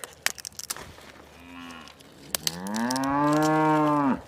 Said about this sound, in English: Sounds like the cows want some kale too.